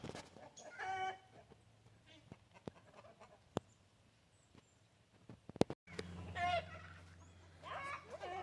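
Chickens and a hen turkey cluck and squawk defensively inside a coop with an owl, in agitated bursts at the start and end with sharp clatters between, while someone talks quietly.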